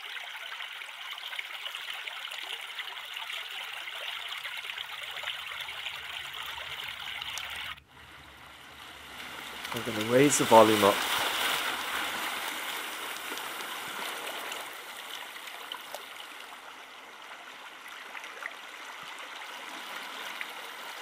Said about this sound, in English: And back to a flowing water or brook.